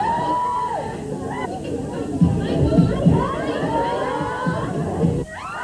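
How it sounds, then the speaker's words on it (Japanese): Fans at a Michael Jackson appearance at Tower Records in Tokyo scream and cheer in a steady crowd roar, close and loud, with excited voices rising over the din for several seconds. "ファンの悲鳴に似た歓声です"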